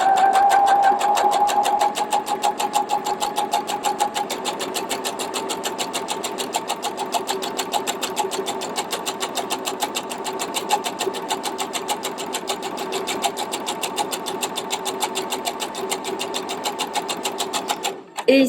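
A domestic sewing machine stitches fabric for a scrunchie, a steady, fast, close mechanical whirring that runs almost without a break and ends in a brief stop.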